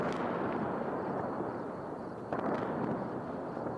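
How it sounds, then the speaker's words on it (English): Strike explosions in Iran, captured in news footage: a dense, rumbling wash of distant blasts and crackle, with a sharper burst near the middle, sustained at moderate loudness with no voices. "You can hear the explosions, the attacks."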